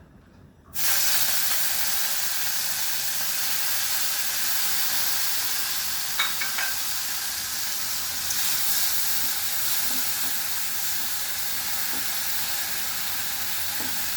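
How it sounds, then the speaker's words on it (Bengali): Loud, steady sizzling of prawns frying in ghee starts abruptly after a brief quiet moment and continues as a constant hiss, with occasional faint pops. "এটা আমি চিংড়ি মাছটা ভেজে নেব।"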